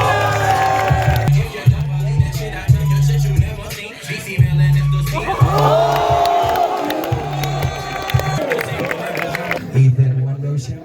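Spectators cheer and whoop at a tricking battle during the Oslo Movement Gathering, a loud continuous crowd roar with scattered shouts over a thumping low beat, swelling in bursts throughout.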